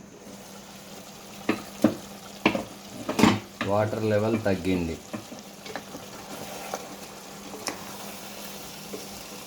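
Country chicken fries in a pan for pulusu, a low sizzle under sharp clatters of stirring and scraping, with a short stretch of speech in the middle.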